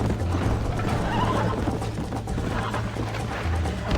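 A horse in the Red Dead Redemption video game whinnies loudly while its hooves clip-clop at a gallop, a close, steady rhythm of hoofbeats running under the neighs.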